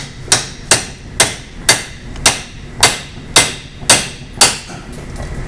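Hammer blows on a cold chisel set against a bolt head in a shop lesson, nine sharp metallic strikes at an even, steady rhythm, close and loud with short ringing decays.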